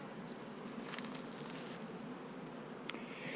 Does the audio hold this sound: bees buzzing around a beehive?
yes